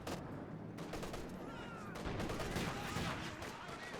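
Troops fire in the real-time strategy game Company of Heroes 2, with bursts of rifle and machine-gun fire crackling in rapid, overlapping volleys at moderate distance amid battle ambience.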